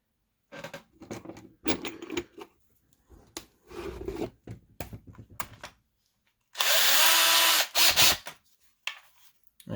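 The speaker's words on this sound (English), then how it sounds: "Now let's drill a hole." A power drill bores a hole into a diecast model car, heard as two loud, close whirring bursts of about a second each near the end, after a stretch of clattering handling and rummaging noises with no talk.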